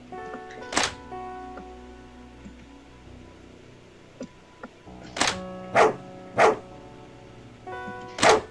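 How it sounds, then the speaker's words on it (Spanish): Giant dog in the RPG video game Misfiction gives several loud, close barks: one early bark, then a tight series of four near the end, over a soft game background with a few light ticks. "No me acercaré a ese perro gigante."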